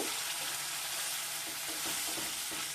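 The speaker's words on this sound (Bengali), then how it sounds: "এবার একটু তেলের মধ্যে মশলাটাকে একটু নাড়াচাড়া করে নেব" A ground spice paste fries in hot oil with a dense, loud, unbroken sizzle, and faint soft stirring scrapes sit underneath it.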